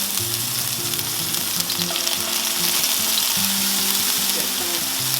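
Vegetables for a garden pesto pasta sauté in a hot pan with a constant close crackling sizzle and occasional stirring. No one speaks.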